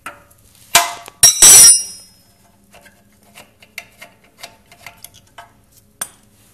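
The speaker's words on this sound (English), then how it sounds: "Take your 21mm wrench, remove lower nipple that goes into the frame." 21mm wrench working on a pressure washer pump fitting, a couple of loud metallic clanks and a scrape, then a series of small, light ticking clicks from the wrench ratcheting and tapping.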